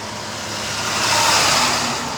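A large Brinks truck drives past close by, its engine and tire rumble swelling to a peak midway and then easing slightly as it passes; loud and continuous, with no talking.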